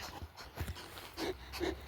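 A dog pants quickly and close by, rhythmic breathy huffs in short bursts, fairly quiet.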